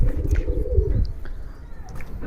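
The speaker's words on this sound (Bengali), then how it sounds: "দেখেন খুব সুন্দর একটা কবুতর" A Giribaj pigeon gives a low, throaty coo close by, rolling through about a second before fading. A few faint higher chirps sound in the background.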